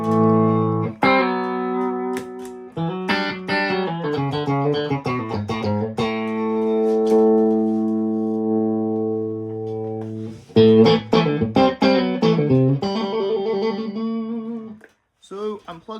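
An electric guitar runs through a pedalboard into a 1964 Fender Deluxe Reverb amp with an old Naylor speaker, playing sustained chords and quick picked runs with effects and reverb, pausing briefly near the end.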